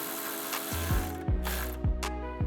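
A ratchet with an 8 socket tightens a relay screw during a lighting install on a 2003-2009 Toyota 4Runner, giving several loud, close ratcheting strokes, each a quick run of clicks, with no talking.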